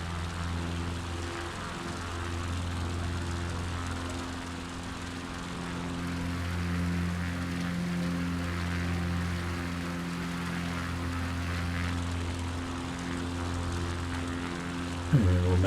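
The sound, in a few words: propeller aircraft climbing after takeoff in Microsoft Flight Simulator 2024 video game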